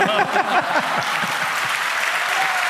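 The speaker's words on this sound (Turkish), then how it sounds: "Alkışlıyoruz. Bravo." A television studio audience bursts into loud, sustained applause, with a few whoops at the start before the clapping settles into a dense, even roar.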